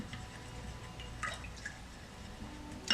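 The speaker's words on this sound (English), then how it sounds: "so I'm going to wash that brush off." A paintbrush loaded with water-mixable oil paint and linseed oil is rinsed in a water pot, producing faint, scattered drips and small splashes against a steady low background.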